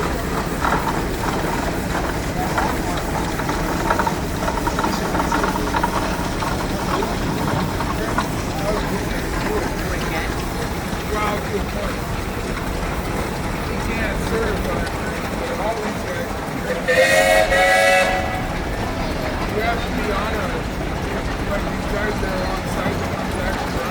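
A 1912 Nichols and Shepherd double-cylinder engine rated at 70 belt horsepower runs in a parade at a show in Wolford, North Dakota, giving a continuous loud mechanical clatter under an announcer's voice, with a brief tonal blast partway through.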